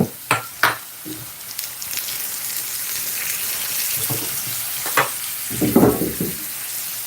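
Butter frying in a hot pan for a Jamaican veg patty, a steady close sizzle throughout, punctuated by a few sharp clatters and stirring knocks, louder near the end.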